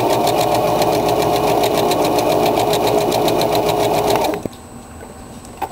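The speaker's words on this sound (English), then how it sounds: "And let's try to sew it again." A sewing machine runs a zigzag stitch at a steady, loud, close hum for about four seconds, then stops abruptly, leaving quiet room tone.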